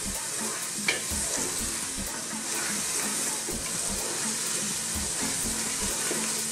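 Leaves soften in hot oil in a pan for a king fish biryani, a soft continuous sizzle broken by repeated stirring scrapes and one brief clack, close and moderately quiet.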